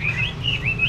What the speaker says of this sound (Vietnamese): Lắm loại chim lạ nha